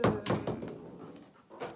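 A dog whimpers and thumps about while playing indoors, producing a few close, short bursts of noise followed by quieter shuffling.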